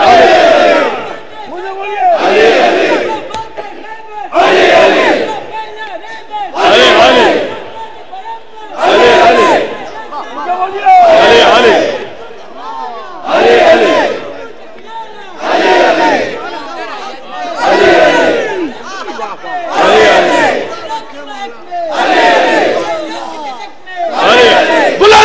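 Large majlis congregation chanting together in unison, loud rhythmic bursts roughly every two seconds, each shout rising and falling in a steady repeating pattern throughout.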